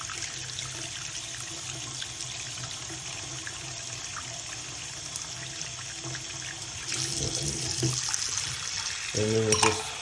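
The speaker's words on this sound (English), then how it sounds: "run it with some hot water" Hot water runs from a tap into a sink in a steady rushing stream that grows louder and splashier toward the end, with no talking.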